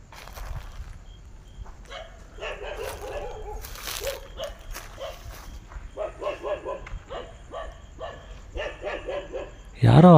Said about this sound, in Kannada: ನಾಯಿಗಳು ಕೂಡ ಇಲ್ಲೇ ಎಲ್ಲೋ ಅಳ್ತಾ ಇದೆ.